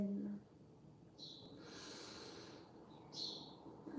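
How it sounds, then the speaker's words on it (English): One slow deep breath in and out during a yoga practice, soft airy inhale followed by a longer exhale with a faint breathy hiss, close and quiet. "Start by taking a deep breath in"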